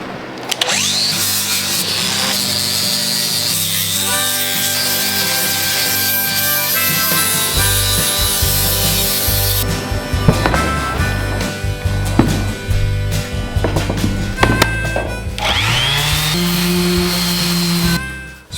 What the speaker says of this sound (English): So we sanded out the 4-inch grinder, hit it with that 40 grit, took out all the big chunks and just kind of leveled it all out.